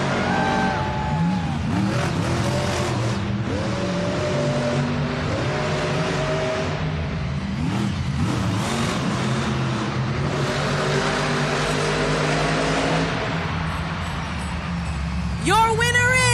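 Monster truck engines rev and roar in an indoor arena at a Monster Jam event in Tacoma, Washington, rising and falling through repeated accelerations, with an announcer talking over the engines and crowd noise throughout.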